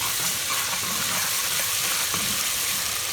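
A masala of green chilli, garlic, ginger and red chilli frying in a pan for a spicy cluster bean dish, giving a steady, loud sizzle with faint stirring and no talk.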